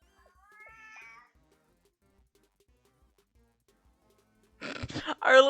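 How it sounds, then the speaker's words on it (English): A cat meows once early on in a clear, rising-falling call, then after a quiet pause a louder, strained meowing cry closes the clip. "Why is there meowing?"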